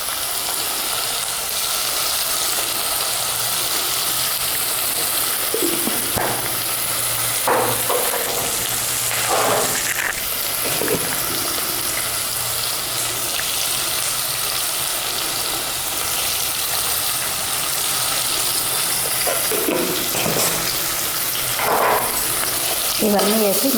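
Mint and coriander being stirred into a sizzling pot of oil for Hyderabadi bagara rice, steady frying hiss with occasional scraping spoon strokes and clinks, close by.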